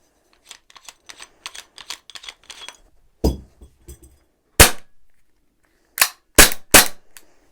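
An ASG airsoft gun fired with its foam suppressor removed: about a dozen quick light cracks, then a few louder, sharper shots spaced apart, all close and alone.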